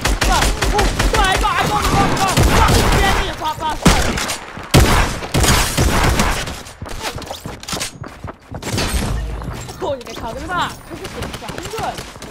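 Rapid gunfire bursts in a Fortnite match, loud repeated cracks and volleys in quick succession over game sounds, with a player's voice talking over parts of it.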